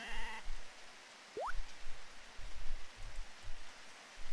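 A single short sheep bleat rising in pitch in the video game Harvest Moon DS, heard over a soft patter like rain, with a brief tonal sound at the very start.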